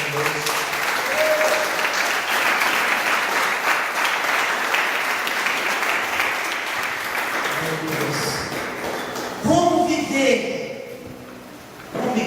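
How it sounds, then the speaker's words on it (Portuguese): A church congregation claps steadily and loudly for several seconds, dense applause with voices rising over it as it tapers off. "Quantos podem dar um aplauso ao Senhor Jesus?"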